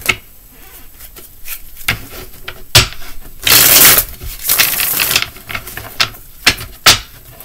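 Tarot cards shuffled and drawn close up during a reading: scattered sharp card taps and clicks, with two longer riffling shuffle bursts in the middle, moderately loud and free of talk.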